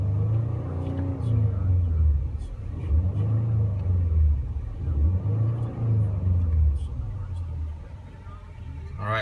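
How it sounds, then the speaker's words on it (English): A 2016 Ford Explorer Sport with a 3.5L EcoBoost twin-turbo engine is driven, giving a low, steady cabin rumble of engine and road noise beneath continuous talking. "driving the new 2016 Ford Explorer Sport"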